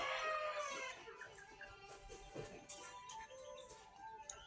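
Backyard chickens, well-grown and healthy, cluck and crow nearby, with a rooster's call rising near the start over steady hen chatter.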